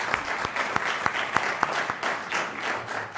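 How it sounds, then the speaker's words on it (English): An audience at a community meeting gives a round of applause for local social service providers. Sustained, even clapping from many hands, with a few sharper individual claps standing out near the front. "And could we give those folks a round of applause?"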